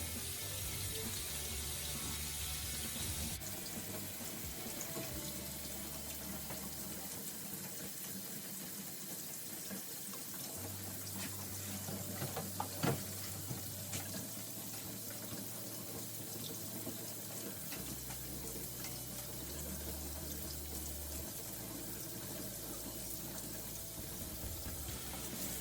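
Water runs steadily from a kitchen tap into a sink for a long stretch, a constant, close rushing hiss with no talk, while low background hums shift underneath.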